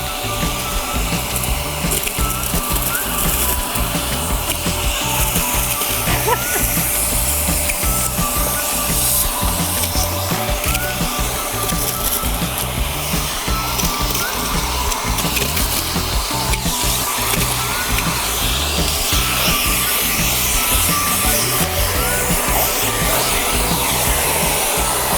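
A Sun Joe vacuum runs continuously for the whole stretch, a loud, steady motor whine with a broad airy roar that stays close and unbroken, with no talking.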